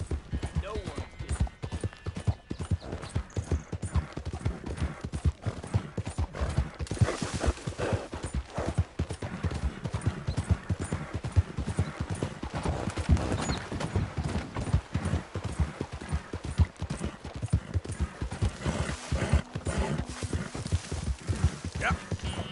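Horse hooves clip-clopping steadily in a video game, a continuous brisk rhythm of hoofbeats at moderate volume, with talk over parts of it.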